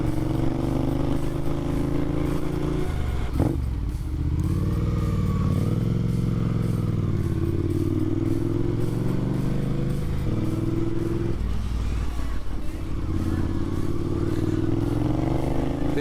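Motorcycles ridden along rough, forgotten UK country roads, a steady engine drone with shifting pitch as the riders change speed, plus wind noise and occasional clatter, no talk.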